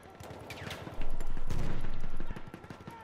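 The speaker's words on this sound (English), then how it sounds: "Just shoot, yo. Just hold it." Sustained automatic gunfire from Battlefield 1 in a 5v5 Domination match, a loud rapid burst lasting over a second after scattered shots, close and dense, with a voice faintly underneath.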